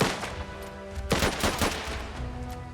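Soldiers open fire in the strategy game Last Train Home, a dense volley of overlapping gunshots with sharp cracks bursting around the one-second mark and continuing in rapid bursts over a steady battle rumble.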